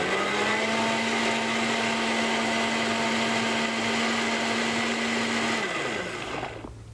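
A blender runs at a steady high whine, blending a thick cheese ball mixture with cornstarch, loud and close for several seconds before it winds down at the end.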